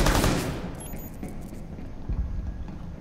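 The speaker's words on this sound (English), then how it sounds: "She's taking pot shots at me for some reason." Gunfire in the tactical shooter game Rainbow Six Siege, a short burst of loud shots at the start that quickly fades into quieter scattered reports.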